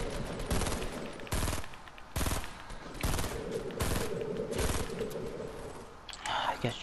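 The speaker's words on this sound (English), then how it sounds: "Shooting his friend." Rapid bursts of gunfire in Fortnite, repeated sharp shots in quick volleys over a steady game background, with a voice talking faintly underneath.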